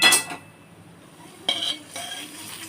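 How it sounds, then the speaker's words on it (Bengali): Paneer pieces are tipped into a dish holding mustard oil and green chillies for paneer bhapa. Brief clinks and a soft clatter of utensil against dish come close by, with quieter moments between and no talking. "পনিরগুলো এবার ঢেলে দিচ্ছি এর মধ্যে।"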